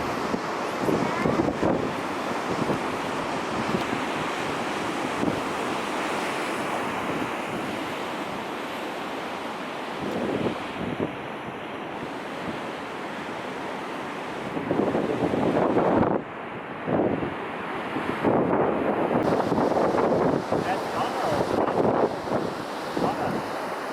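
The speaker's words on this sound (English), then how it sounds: "This wind is probably a sustained 40 now." A gale-force wind of around 40 knots roars over big ocean swell of about 8 m at J Bay, with continuous buffeting wind noise on the microphone, heavy crashing surf and gusts that swell and ease throughout.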